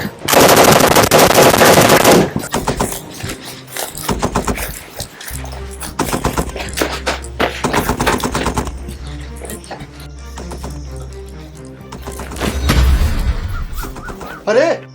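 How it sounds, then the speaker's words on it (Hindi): Rapid bursts of gunfire crackle loudly, automatic volleys coming in waves with short pauses between them. "उधर भी गोलियां चल रही हैं।"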